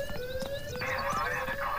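Police siren in the video game Thief Simulator, a steady wailing tone that rises and falls continuously over a busy game soundscape with clicks and background effects.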